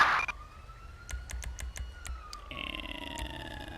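Siren of an ambulance in the video game GTA5, heard faintly in short rising and falling wails with scattered clicks and game noises around it.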